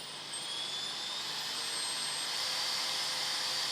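A Nitecore NEF01 handheld fan runs with a steady, airy whir and a thin high whine close by, holding an even level throughout.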